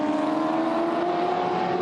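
An older two-door Ford Falcon race car at Hidden Valley Raceway holds a steady, loud engine drone with a constant pitch throughout, with no pass-by swell.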